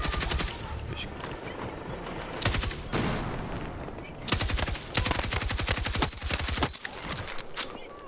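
Rapid bursts of gunfire and machine-gun fusillades from a tank battle video game, loud and dense, coming in repeated volleys with short gaps between them.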